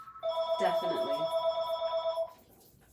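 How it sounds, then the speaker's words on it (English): A telephone rings with a steady electronic tone during a henna hair-dye demonstration at a salon, one sustained ring of about two seconds that starts under a brief spoken word and then cuts off. "Sorry about the phone, guys."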